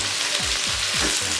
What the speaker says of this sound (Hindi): अब इन सारी सब्जियों को हम फ्राई कर लेंगे।